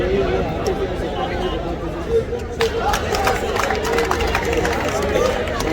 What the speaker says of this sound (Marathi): गर्दी प्रवासिकांचा उसळून वाहणारा उत्साह.